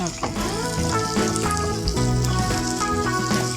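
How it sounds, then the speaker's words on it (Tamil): Onions sauté in a hot pan for a Tamil raw banana fry, giving a steady, close sizzle and crackle throughout, mixed with a continuous musical background. "இப்போ இது கூட வெங்காயம் சேர்த்து நல்லா வதக்கணும்"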